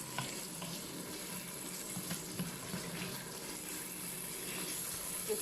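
Mutton varuval being stirred in a pan until dry, giving a steady soft sizzle with faint scraping strokes of a utensil throughout, fairly quiet and even, with no voices.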